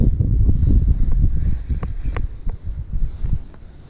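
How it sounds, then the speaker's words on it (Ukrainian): Gusty wind buffets the microphone in low rumbling bursts, with faint water splashes and knocks near a small fishing boat on a river while pike fishing. "А тут вітер, бачите?"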